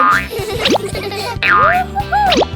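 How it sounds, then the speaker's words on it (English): Cartoon boings of a small rubber ball bouncing back and forth, several springy wobbling tones in quick succession over bouncy background music. "The ball bounces back and forth between them."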